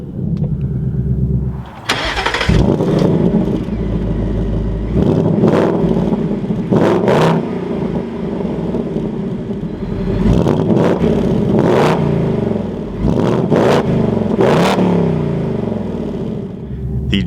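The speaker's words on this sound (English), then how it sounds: "inside the Mustang GT, keep my foot on the brake, we can go ahead and fire it up." A 2024 Ford Mustang GT Premium V8 cranks and fires up with a loud burst, settles into a deep idle, then is blipped through a series of sharp revs that rise and drop back, close and loud.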